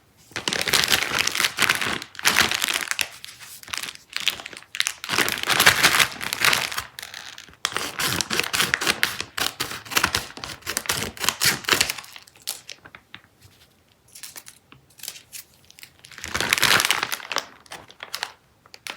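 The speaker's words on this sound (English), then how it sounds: "Let's cut this delicious looking bag up and see what's inside." Scissors cut open a plastic bag of lollipop candy with crisp, close crinkling bursts and rustles, separated by short quiet gaps.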